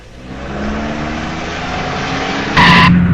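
A vehicle's tyres skid and screech loudly and close by, rising into a sharp squeal near the end, like an accident happening.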